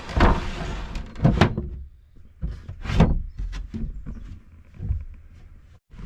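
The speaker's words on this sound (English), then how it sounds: "And a sliding door." Wooden sliding door in a sailboat cabin with maple cabinetry, sliding and knocking in a few sharp close thuds and scrapes separated by short quiet gaps.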